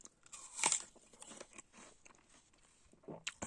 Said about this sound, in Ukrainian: І коли жуєш, наче от по снігу так ідеш, такий хрускіт.